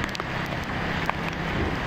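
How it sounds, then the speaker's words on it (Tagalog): Heavy rain and strong wind from Typhoon Kristine make a dense, steady rushing roar without pause, with faint patters rising briefly above the wash, loud and close. "walang tigil ang ulan, walang tigil yung hangin"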